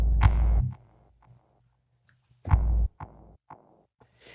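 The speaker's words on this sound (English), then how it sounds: "Then we have delay." Two punchy low synth hits from the Mobilis Ultimate sample instrument's built-in delay, each followed by fainter, thinner pre-filtered repeats that echo and decay in rhythm.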